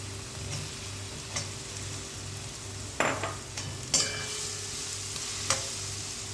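Soybean chunks and chili-garlic paste fry quietly in a pan with a low, steady sizzle, broken by a few sharp clinks and scrapes from stirring utensils; no one talks.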